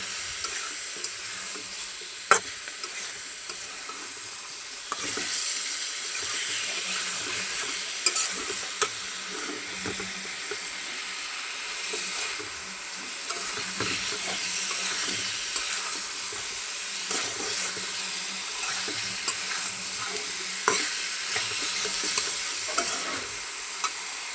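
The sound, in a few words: cauliflower and flat beans frying in a pan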